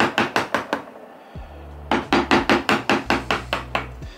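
Sharp rhythmic knocks of a mallet driving a wood chisel as it carves raised lettering into a wooden bread board, a quick series of blows, a brief pause, then another steady run of strikes with low thuds, no voices.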